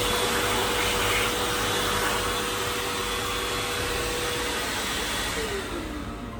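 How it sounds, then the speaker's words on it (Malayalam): Hand dryer in the bathroom of a Vande Bharat express train blowing with a steady, loud whooshing roar close by, alone without talk, tapering slightly near the end. "പിന്നെ ഇവിടെ ഒരു ഹാൻഡ് ഡ്രയർ ഉണ്ട്,"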